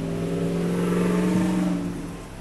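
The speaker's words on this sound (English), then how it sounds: "Sorry, we have some loud cars passing by." A loud car engine drones past nearby with a steady low hum that swells and then eases slightly as the vehicle moves away.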